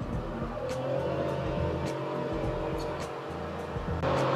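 A 2021 Chevrolet Spark accelerating hard on a night highway from about 90 km/h, its small engine droning steadily with a strained, rising hum under constant road and wind noise, swelling slightly louder near the end.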